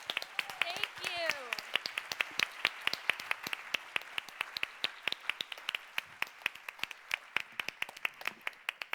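Audience applause at the closing ceremony of the World Food Forum 2022, a steady crowd of clapping hands lasting throughout, fairly close and even, with brief voice sounds near the start.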